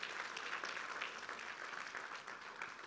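An audience applauds, steady clapping from many hands that holds at an even, moderately distant level throughout.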